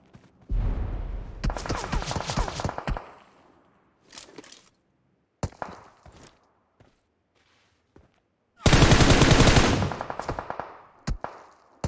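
Automatic gunfire in the mobile battle royale game PUBG Mobile, with two long loud bursts of rapid shots separated by shorter scattered volleys and silent gaps, close and sharp with no talk over it.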